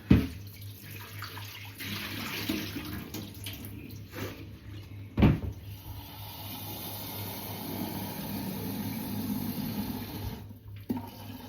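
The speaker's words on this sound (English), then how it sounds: "I'd better fill my kettle up." Tap water runs steadily into a kettle at a kitchen sink for about ten seconds, a close, continuous splashing rush with a couple of clunks as the kettle is handled.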